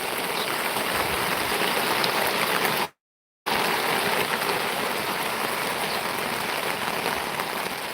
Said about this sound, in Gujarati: કંઈક આવા વરસાદ પડે છે